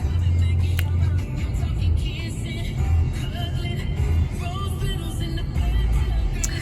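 A car drives along, heard from inside the cabin as a low, steady road rumble and engine hum. The interior sound rises and dips slightly, with music or other faint sounds over it.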